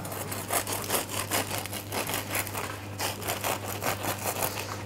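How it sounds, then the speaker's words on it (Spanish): A knife saws back and forth through a crusty rustic sourdough loaf, still warm, giving a steady run of rasping, crackling strokes close up with no talking. "Vamos a cortar esta miga a ver qué tal está."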